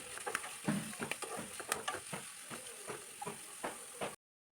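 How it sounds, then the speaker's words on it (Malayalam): Onions, green chillies and curry leaves sautéing in a pan for fish molee make a faint, steady sizzle with frequent light stirring scrapes before cutting to silence. "സവാളയും പച്ചമുളകും ഒക്കെ നല്ലവണ്ണം മൂത്ത് കിട്ടണ്ട ഒന്ന് വഴന്ന് വന്നാൽ മതി"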